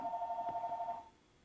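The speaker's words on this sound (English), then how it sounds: "Oh, that'd be the phone." A telephone rings in a quiet room at night, one steady electronic trill lasting about a second before cutting off, fairly close and alone with no talk over it.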